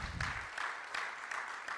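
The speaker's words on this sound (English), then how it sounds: "So let's give another round of applause for Inovari and CK Booths." An audience claps in a round of applause at a national ICT week training session, a short burst of many hands clapping with a loose, uneven rhythm that stays fairly close and even in loudness.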